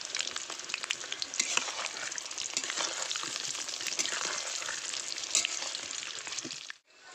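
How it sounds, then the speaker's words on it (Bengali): Potatoes, parboiled with salt and dusted with turmeric, fry in oil for a mutton biryani. A steady, close, loud sizzle crackles throughout, alone with no talk, then cuts off abruptly near the end. "আলুটা ভাজা হয়ে গেছে"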